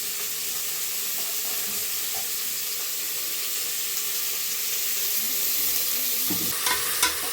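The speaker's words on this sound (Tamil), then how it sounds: "வெங்காயம் பச்சை மிளகாய் நல்லா வதங்கட்டும்" Onions and green chillies sauté in a pan, a dense steady sizzle close by with occasional utensil scrapes and clinks near the end, no voices.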